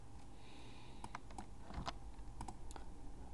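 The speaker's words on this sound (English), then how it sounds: "just assign a new title by typing it in" Quick, light keystrokes on a computer keyboard as a title is typed into a form field: an irregular run of soft clicks at close range, quiet against a low steady room hum, with no talking.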